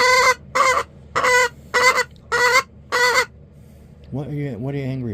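A backyard chicken gives six sharp, loud, agitated clucks in steady rhythm, close by, then a lower drawn-out grumbling call follows.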